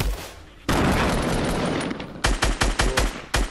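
Rapid bursts of gunfire in the Fortnite video game: a dense, sustained roar of shots for over a second, then a string of separate sharp, loud bangs in quick succession, close and punchy.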